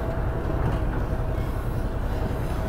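A long train rumbles past on a railway in Candeias, Minas Gerais, a steady broadband roar that holds level for the whole stretch, with no voices over it.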